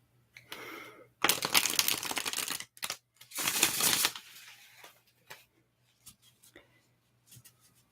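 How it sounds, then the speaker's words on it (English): Tarot cards are shuffled up close in two long riffling bursts, followed by a few softer taps and shuffles, with no talking. "get the cards shuffled"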